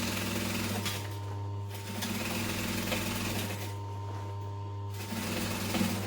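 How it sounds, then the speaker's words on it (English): A sewing machine stitches steadily around a tote bag, its motor humming with a fast rhythmic needle chatter that pauses briefly twice before resuming, with no voices over it. "I'm just stitching around"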